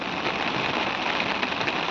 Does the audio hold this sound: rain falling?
yes